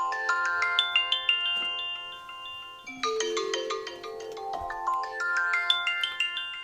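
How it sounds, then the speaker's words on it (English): A phone alarm ringtone plays a bright, repeating chiming melody, loud and close, pausing briefly midway before starting again, with no talk over it. "That's my alarm telling me to go for my walk every day at 1."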